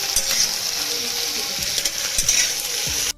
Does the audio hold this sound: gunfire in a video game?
no